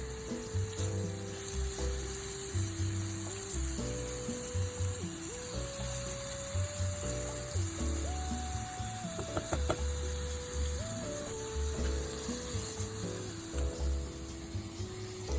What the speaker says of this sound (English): Keeping those onions and garlic nicely stirred and combined and cooking